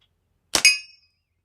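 A slingshot shot from a natural-fork contoured slingshot strikes a small metal target: one sharp, close metallic clang that rings briefly and fades, with silence before and after.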